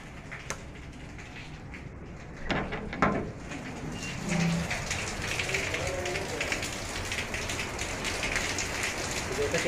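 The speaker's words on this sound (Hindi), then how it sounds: "जैसा कि आप देख सकते हैं, बहुत तेज बारिश हो रही है बाहर" Heavy rain pours steadily outdoors as a dense, continuous hiss, with a few birds cooing faintly in the background and brief murmurs of voices.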